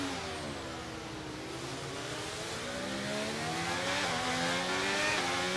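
Formula 1 car in the F1 23 game racing down the long straight at Miami, a continuous high engine whine rising steadily in pitch as it accelerates through the gears, loud and alone.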